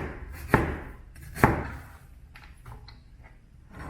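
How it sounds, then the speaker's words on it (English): A knife cuts through an onion into thin slices on a board, giving two sharp, close chops about a second apart followed by softer scraping and handling. "So we've got some onion, just gonna take that down in some nice little slices as well."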